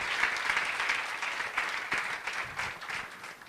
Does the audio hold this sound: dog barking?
no